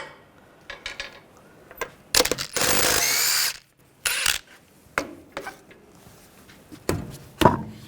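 A power tool works the wheel lock off a 2011-2017 Nissan Juke: one loud sustained whirring burst of over a second amid sharp metallic clanks and taps of sockets and lug hardware, close by.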